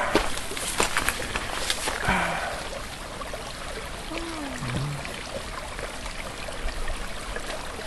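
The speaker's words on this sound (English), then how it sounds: "This is good, clean water running here" A clean creek runs steadily nearby with a constant, broad trickling wash over rocks. The flow stays even throughout, with a few faint, brief voices and sounds in the background.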